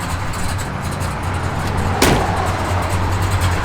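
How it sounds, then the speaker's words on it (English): A 1970 Dodge Super Bee engine with an aggressive cam idles in a steady, loud, close rumble, broken once by a short sharp click partway through. "Good sound. Got a nasty little cam to it."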